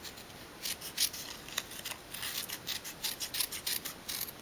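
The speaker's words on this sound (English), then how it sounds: "I'm just gonna cut that in half" Scissors cutting card paper into leaf shapes for a black flower birthday card, a quiet, close series of short crisp snips in an uneven rhythm, with no talk.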